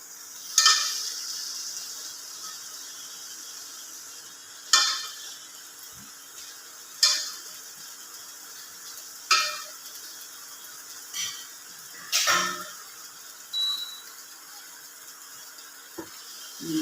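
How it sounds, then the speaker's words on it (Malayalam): Washed chicken pieces added to a pan for biryani sizzle steadily, broken by sharp periodic bursts of stirring and clattering roughly every two seconds, with no talking. "ഇനി നമ്മുടെ ഈ ചിക്കൻ കഴുകി വെച്ചേക്കുന്ന ഇതിലോട്ട് ഇട്ട് കൊടുക്കും"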